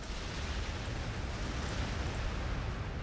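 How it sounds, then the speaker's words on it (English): Faint, steady rumble of distant artillery fire in the strategy game Warhammer 40k Gladius Relics of War, a continuous low wash of booms with no distinct individual shots. "But we got artillery."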